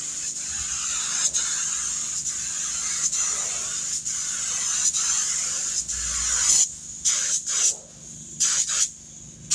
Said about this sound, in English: He's crisscrossing the paint since this is the last coat of color going on it